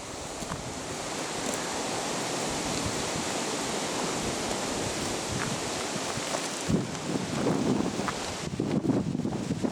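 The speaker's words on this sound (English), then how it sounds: "Very windy tonight." Strong night wind rushing through a pine arboretum, a continuous broadband roar of swaying branches and needles that swells in gusts toward the end, with no voices.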